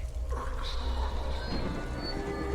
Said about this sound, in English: Is it raining up?